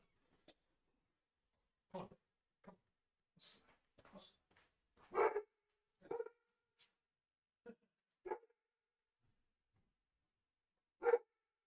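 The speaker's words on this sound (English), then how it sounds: "Just bark then." A dog barks indoors, short separate yips and barks spread irregularly over about twelve seconds, fairly faint and distant, with quiet gaps between and no clear speech.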